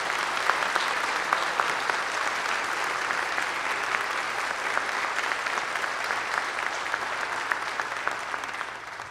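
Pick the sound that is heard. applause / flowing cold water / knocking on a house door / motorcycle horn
applause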